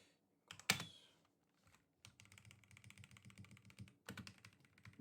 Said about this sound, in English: I'm sorry I typed too long